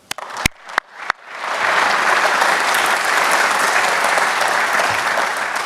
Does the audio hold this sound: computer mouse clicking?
no